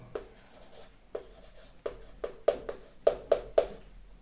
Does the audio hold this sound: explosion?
no